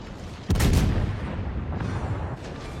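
A Des Moines cruiser's broadside in a naval battle video game booms out in one heavy blast followed by a rumbling tail, with a fainter second report later.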